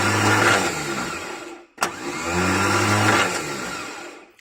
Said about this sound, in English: See how the starter motor is working?